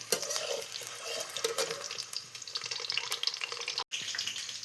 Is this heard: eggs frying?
yes